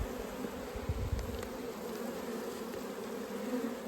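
Honey bees buzz steadily in an open hive during a hot, dry mountain inspection, a dense close hum with no pauses and no voices.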